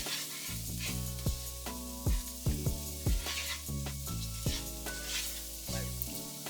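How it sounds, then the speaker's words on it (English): Onions frying in coconut oil for a chickpea curry with potatoes, stirred in the pan: a steady sizzle with scraping stir strokes, set against a tonal background. "And then I like to add in the onions. Stir that around with it a little bit."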